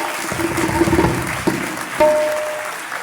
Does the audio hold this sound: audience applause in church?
yes